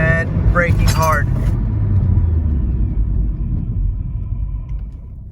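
A Volvo P1 with new 320 mm brake rotors braking hard on the road, heard as a loud low rumble of the car slowing from inside the cabin, with someone talking over it at the start.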